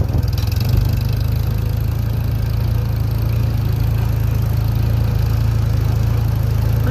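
A 1969 Ford 3000 tractor engine runs steadily while the tractor is driven, a loud, continuous low drone with a constant rumble and no talk over it.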